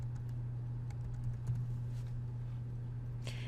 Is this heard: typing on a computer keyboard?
yes